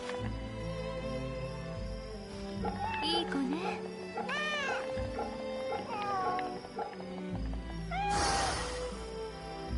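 Cat meowing in the Fate/Samurai Remnant video game, several rising mewing calls set against a steady bed of game music and ambience, with a louder, brighter call near the end.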